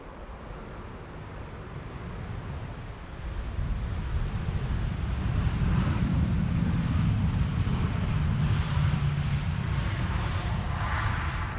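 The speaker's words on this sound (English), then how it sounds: "KLM style landing, keeping up the speed, vacate late." A KLM airliner landing on runway 18R at Amsterdam Schiphol, a broad distant roar of jet engines swelling gradually and holding steady, softened by wind across the microphone.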